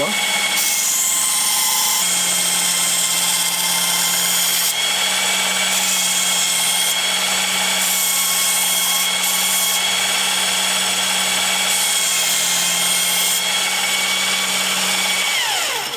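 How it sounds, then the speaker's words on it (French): A Work Sharp Ken Onion Edition Mk.2 belt sharpener whines steadily for sixteen seconds as a knife is ground on the belt, the pitch shifting slightly as the blade moves. "Et bien évidemment, après, je vais aiguiser le couteau."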